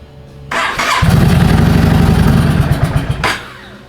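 A Yamaha V-Star 650 motorcycle is cranked and fires up, a loud rumbling engine for almost three seconds with an uneven, lumpy note, then cuts out abruptly, close by and without talk.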